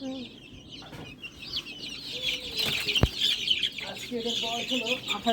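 Layer and country chickens cluck near and fairly loud in a busy, continuous stream of calls, with a brief sharp knock partway through.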